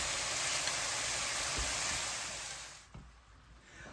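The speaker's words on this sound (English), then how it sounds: "now you want to cook these hamburgers until they are fully done" Hamburger patties sizzling in a pan, a steady broadband hiss of frying that holds strong and then drops away, with a soft knock as it fades.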